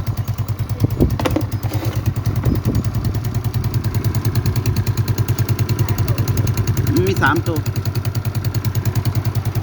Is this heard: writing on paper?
no